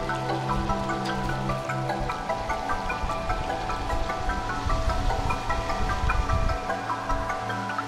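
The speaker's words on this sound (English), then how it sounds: "Soothing sound of trash falling, shimmering waterfalls" Falling trash and shimmering waterfalls in the video game Stray, a continuous watery rush and patter with soft drips, set under a layered tonal musical score, with no voices.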